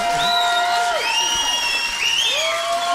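A hometown audience at a live road show applauds and cheers, a loud continuous wash of clapping with whoops and raised voices throughout.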